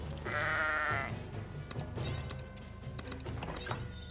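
Sheep bleat in a short burst right after a polymorph spell in the Kingdom Rush tower-defense game, a loud wavering cry followed by softer game effects and a second brief bleat near the end.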